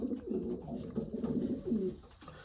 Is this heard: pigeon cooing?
yes